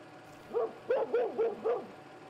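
Dogs barking in the Prepar3D flight simulator at Lukla, about five quick, close, clear barks in a short burst over a faint steady background hum.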